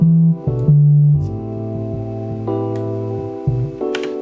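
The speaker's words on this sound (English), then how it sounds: "So basically this is just the bass line, and this bass line is from Nexus" A bass line from a Nexus synth, filtered with the high end cut, plays steady low sustained notes that change pitch every half second or so, loud and close with nothing else over it.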